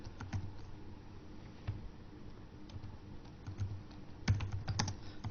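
Someone types VBA code on a computer keyboard, giving quiet, close key clicks in irregular bursts with a few louder taps near the end, and no one speaks.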